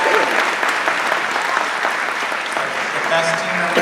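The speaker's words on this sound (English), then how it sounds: "So I just want to give a round of applause for our team members." An audience at a Busch Gardens Williamsburg announcement applauds the park's team members, a loud, sustained wash of many hands clapping with a few scattered crowd voices mixed in.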